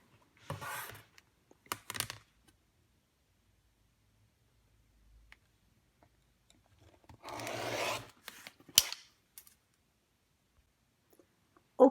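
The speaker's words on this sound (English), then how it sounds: "Lay the square on your cutting board and cut from corner to corner diagonally" A rotary cutter slices a fabric square diagonally on a cutting board in short scraping passes, with a couple of brief cuts early, a longer stroke later, and quiet pauses and light clicks between.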